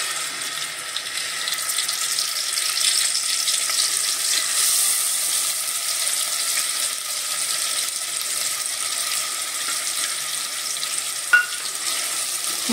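Ground masala hits hot oil in a heated pot while mutton paya soup is being made. It gives a loud, steady, hissing sizzle that lasts about thirteen seconds, with a single sharp click near the end.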